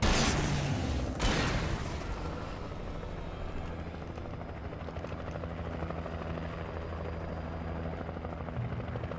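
A helicopter in the video game Alan Wake thrums steadily and loudly throughout, with a sharp boom-like burst near the start before the continuous rotor drone settles in.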